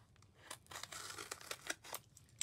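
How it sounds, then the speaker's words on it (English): An envelope of birthday mail being cut open with scissors, a quick series of close, crisp snips and paper rustles, fairly quiet with no talk. "I'm going to cut into that envelope"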